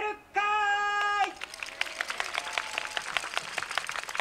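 Audience applause at a yosakoi dance festival outdoors: after a brief sustained musical tone, a scattered, fairly thin round of clapping from a crowd continues steadily, moderately loud and close, with no talk over it.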